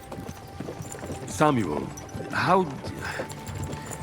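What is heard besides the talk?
horses' hooves clip-clopping in Kingdom Come: Deliverance II video game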